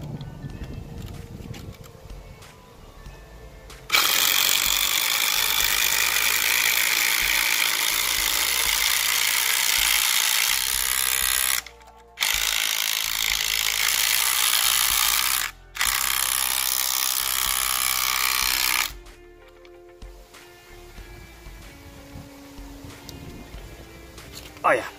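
DeWalt and Rockwell drivers drive a 19mm lag screw into wood in loud, sustained rattling hammering bursts separated by short pauses, with quieter handling noise before and after.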